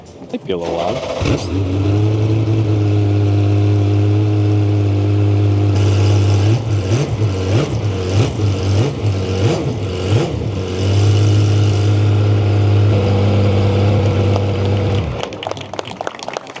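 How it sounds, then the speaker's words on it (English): A Porsche race car running on race fuel on a cold morning fires up and settles into a loud, steady idle, then takes a series of rhythmic blips and a moderate rev before idling again, heard close, with voices in the background. "Not a hard rev, but nothing beats the smell of race gas on a cold Saturday morning."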